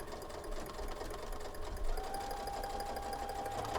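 A sewing machine joins quilt block rows for a Twinkling Star block, running continuously with a steady close mechanical whir and rapid needle chatter.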